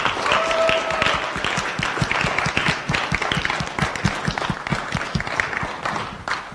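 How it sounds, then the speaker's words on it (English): Audience clapping for candidates at a 2017 student federation debate, individual claps clearly separated in a lively, fairly close round that gradually thins out toward the end. "how about a round of applause for the candidates"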